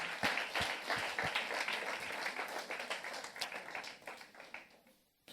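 A church congregation applauds, a sustained crowd of clapping hands with a few sharper individual claps, fading and stopping abruptly near the end.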